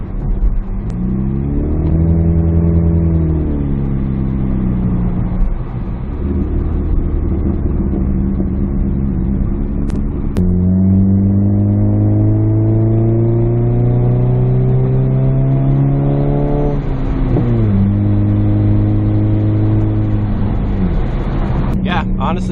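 A PT Cruiser drives down the road, its engine loud and close, revving up through the gears in repeated rising sweeps with shifts between them, over constant road rumble.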